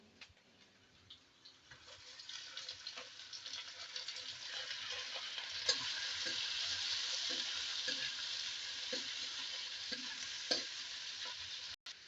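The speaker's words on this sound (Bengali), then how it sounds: "পেঁয়াজ কুচি দিয়ে দিলাম, একসঙ্গে ভেজে নেব।" Chopped onion and ash gourd frying in a pan: a sizzling hiss that swells louder over several seconds, with scattered light scrapes and taps from stirring, close by and without talk.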